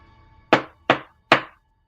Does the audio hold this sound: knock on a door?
yes